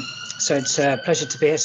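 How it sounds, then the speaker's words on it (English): A siren wails in the background outside a clinic, rising and falling, while a person speaks over it up close. "Sorry about the sirens."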